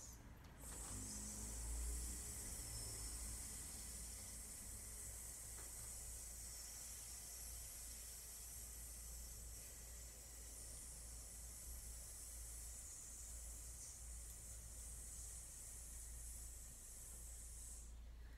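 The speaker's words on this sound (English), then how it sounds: "And hiss." A person hisses steadily through the teeth as a breathing exercise during a vocal lesson, a long sustained near hiss with a low room rumble underneath.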